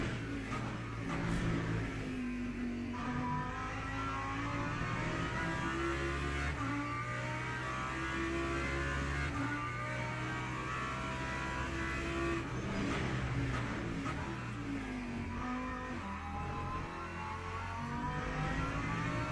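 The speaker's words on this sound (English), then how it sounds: "it's all big V8s with a good noise, with a better noise than European V8s" A deep V8 race car engine in a racing video game drones and revs continuously, rising and falling in pitch with gear changes, loud and steady throughout with no talking.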